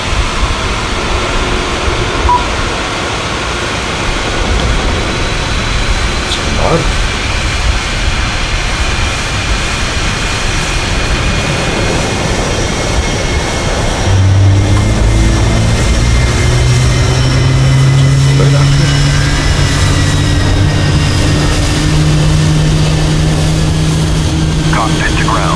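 Airbus A321 engine start and spool-up in the Horizon flight simulator, heard from outside the aircraft: steady broadband engine rumble and whine, with a deep low drone rising and settling in about halfway through and running loud to the end.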